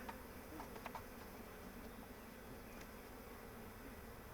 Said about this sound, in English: this is a very populous hive, strong